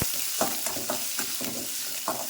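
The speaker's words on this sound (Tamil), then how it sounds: "ஒரு வெங்காயம் பெரிய வெங்காயம் கட் பண்ணி வச்சுட்டேன் அதையும் போட்டுக்கிறேன் அதையும் போட்டு வதக்கலாம்" Chopped large onion sautés in hot oil with curry leaves and coriander for a cauliflower stir-fry, giving a close, steady sizzle with rhythmic spatula strokes about every quarter second and no speech.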